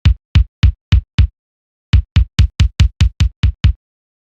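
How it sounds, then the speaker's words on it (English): A high-cut EQ'd kick drum thumps in a quick run of five hits, pauses briefly, then returns in a faster burst of about ten. The tone is bassy and compressed, and the hits play alone. "is it makes the low end of the kick drum sound like it has a lot more bass."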